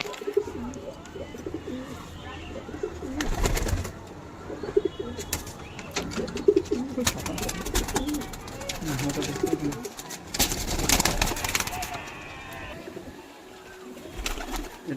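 Pigeons coo at a pigeon show and sale in Howrah, with low repeated cooing and restless rustling, while people talk nearby throughout.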